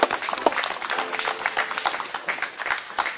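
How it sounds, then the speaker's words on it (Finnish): Scattered audience clapping at an outdoor tractor parade event in Asikkala, Finland, a moderate burst of hand claps with a faint voice underneath. "nyt uudestaan aplodit"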